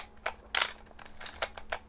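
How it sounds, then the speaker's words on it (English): A vintage camera's shutter fires several times in a row, giving sharp, close mechanical clicks with short pauses between them and no talk. "Yeah, we've got firing shutter."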